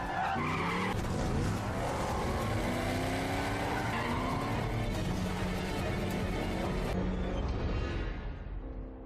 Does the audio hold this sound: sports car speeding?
yes